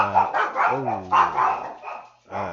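The speaker's dogs bark nearby, loud and close, in a quick run of yapping woofs with short pauses between.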